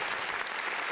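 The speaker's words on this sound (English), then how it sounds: "Round of applause." A podcast studio crowd gives a round of applause, a dense, steady clatter of clapping that fills the whole second without a break.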